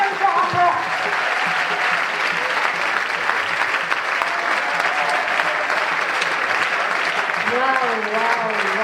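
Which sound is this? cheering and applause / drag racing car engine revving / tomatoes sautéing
cheering and applause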